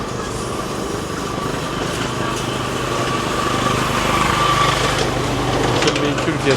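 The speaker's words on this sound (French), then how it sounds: "le seul véhicule qu'il y a sur l'île, c'est ça là. Ces petits trucs là." A small utility vehicle's light engine buzzes steadily on an island in Hong Kong, a continuous high-pitched drone at close range that stays level throughout.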